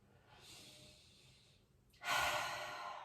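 Audible breathing during a yoga warrior pose, a soft, airy inhale swelling for about a second, then a brief pause and a louder, stronger rush of breath, close and quiet with no talk.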